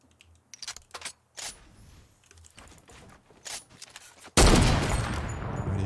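Solo battle-royale video game gunfire: scattered clicks and short shots, then a sudden loud burst of rapid fire near the end that stays dense and close.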